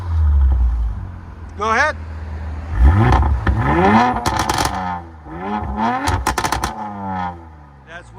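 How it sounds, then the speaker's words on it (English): Twin-turbo 2.9-litre V6 of a 2019 Audi RS5 with full exhaust system and valves open, a steady idle rising into several loud, sharp revs that rise and fall, with brief speech between the bursts. "That's with them open."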